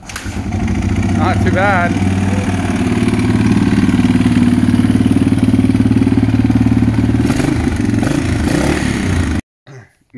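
A Yamaha XT350 motorcycle fitted with an eBay fuel injection kit idles steadily and loudly at close range, a constant low engine drone with brief voices over it before cutting off.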